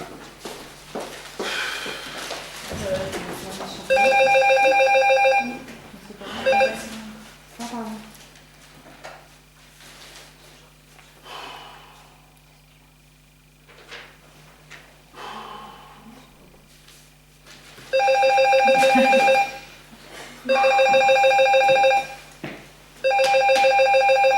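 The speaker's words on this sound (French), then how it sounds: "Allô? Madame Martin?" A telephone rings in short repeated electronic bursts, two clusters of rings separated by a long stretch of quieter household sounds, rustling and faint voices indoors.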